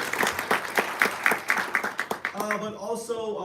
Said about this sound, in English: let's give them a round of applause for putting it together